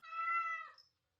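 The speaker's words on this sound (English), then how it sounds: "So yes, apologies if you can hear a cat behind the sofa." A domestic cat meows once from behind a sofa, a single clear, drawn-out call of just under a second that fades quickly into silence, with no voices around it.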